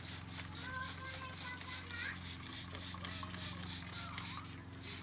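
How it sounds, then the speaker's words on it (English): Rapid, evenly spaced bursts of Meguiar's engine cleaner spray hiss repeat steadily onto an engine, like a can being pumped in short pulses over a low background hum. "So first, just spray it on."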